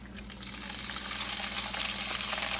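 Oil sizzling and crackling steadily in a pan as fish fries for a fried fish stew, a dense continuous hiss close by with no talking.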